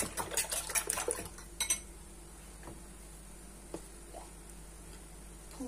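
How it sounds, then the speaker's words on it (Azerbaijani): A spoon clinks and scrapes against a dish as yogurt is added and stirred in a home kitchen, a flurry of sharp taps at first, then a few soft wet squishes and isolated clicks. "Mən bunun içərisində biraz qatıq əlavə eləyəcəm."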